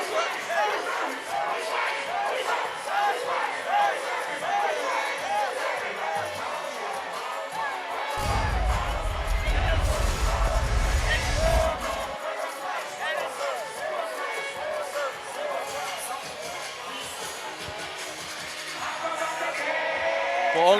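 A basketball crowd at a college game between the Hornets and the Hawks cheers and roars loudly and continuously, swelling into a dense, heavy surge midway before settling back to a sustained din.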